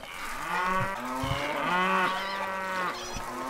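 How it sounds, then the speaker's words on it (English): Cattle mooing in the medieval strategy video game Stronghold, several long drawn-out bovine calls overlapping one after another, fairly close and clear, with no speech. "This constant mooing."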